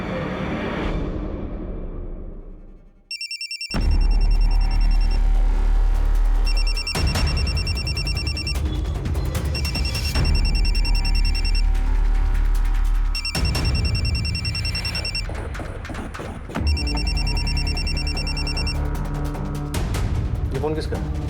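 A telephone rings in a police crime drama scene, its repeated bursts of electronic trilling loud and close, separated by short gaps, with tense background music underneath.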